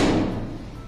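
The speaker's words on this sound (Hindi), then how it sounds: "देखो वो पीछे दरवाजा है ना जो ये वाला, ये हवा से हिल रहा है" A door moved by the wind lets out a single dull knock that fades over a moment, loud and close, with no talking.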